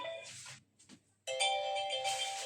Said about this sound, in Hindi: लाइक इसके फोन आ रहे हैं बार बार।